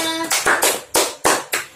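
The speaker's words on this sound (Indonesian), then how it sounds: "Tepuk tangan untuk kita semua." A class of Qur'an students clap their hands together in a short series of about six sharp, close claps with brief gaps between them, loud and unaccompanied by talk.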